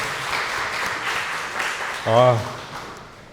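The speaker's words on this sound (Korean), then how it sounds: "하나님께 영광의 박수를 올려드립니다." A church congregation claps in praise, a moderate steady applause, and a single voice briefly rings out over it toward the end.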